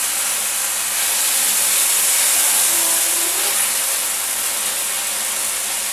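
Bread batter spread on a hot tawa gives a loud, constant sizzling hiss, close and steady with no talk.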